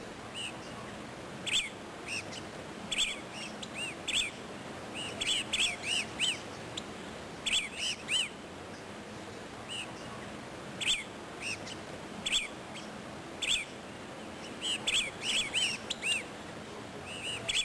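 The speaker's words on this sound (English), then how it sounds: "Of more interest to me were the southern lapwings we found nearby." Southern lapwings in Chile call in repeated harsh, strident bursts, loud and near, spaced irregularly over a quiet outdoor background.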